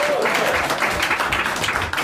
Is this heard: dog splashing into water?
no